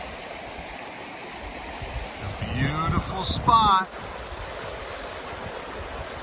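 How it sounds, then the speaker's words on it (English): Ritner Creek flows steadily at its confluence with another river, a constant outdoor rush of water with wind, while a person speaks briefly partway through. "you can see where Ritner Creek joins with another river right here."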